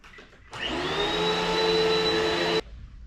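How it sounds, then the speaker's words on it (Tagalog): A household vacuum cleaner starts abruptly, runs with a loud steady whine and hum for about two seconds, then cuts off, leaving a quiet room. "And then mag-vacuum tayo uli."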